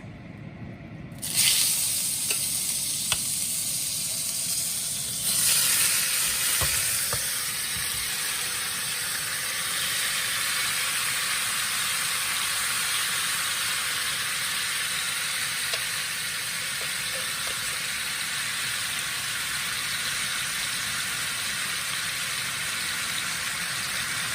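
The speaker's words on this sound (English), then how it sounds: "So now we're gonna put our meat in the pot to fry off." Oxtail meat drops into a hot Dutch pot and starts browning, a sudden burst of sizzle that settles into a loud, continuous frying hiss lasting throughout.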